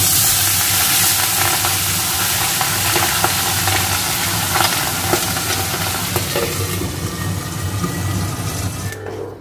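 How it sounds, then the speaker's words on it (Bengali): Pabda fish curry bubbling in a pan, a steady close simmering hiss and gurgle that fades slightly toward the end, with no talking. "এখানে মাছের ঝোল ফুটে গেছে"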